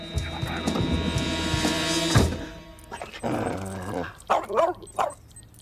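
A dog in a scene from the 2021 Moroccan film Opération Casablanca whines and growls for a couple of seconds, then lets out several sharp, close barks in quick succession.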